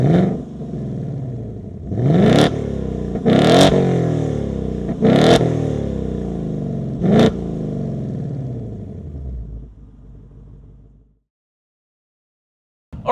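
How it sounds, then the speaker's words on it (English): A 2025 Ford Mustang GT's V8 is revved hard several times in sharp, loud bursts, each blip falling away into a burbling idle before the engine shuts off and the clip goes quiet. "just listen to the way this V8 revs and you'll have your answer"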